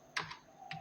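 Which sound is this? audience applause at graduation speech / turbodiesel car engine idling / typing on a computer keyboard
typing on a computer keyboard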